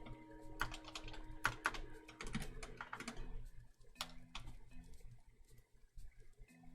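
Rapid clattering keystrokes on a computer keyboard, dense bursts in the first half then sparser taps, close and fairly quiet with faint background hum.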